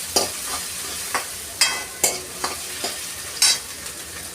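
Onion sautéing in oil in a pan for palak paneer gives a steady soft sizzle, with about a dozen sharp spoon scrapes and stirs spaced unevenly over it.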